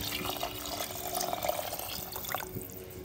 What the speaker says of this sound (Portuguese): Agora eu venho com a água.